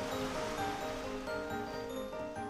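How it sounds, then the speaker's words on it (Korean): Rough sea surf washes continuously along the coast where women free divers gather seaweed, a steady dense roar with a faint humming undertone and no pauses. "아침엔 잔잔했던 파도가 갑자기 거세지면서 해녀들의 손놀림이 바빠집니다."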